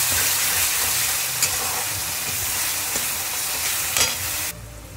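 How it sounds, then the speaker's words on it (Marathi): Onion fries in a pan for a green bean dish, a continuous moderate sizzle with a few light clinks of stirring before it drops away at the end. "कांदा टाकणार आहोत, याला छान तळून घ्यायचं"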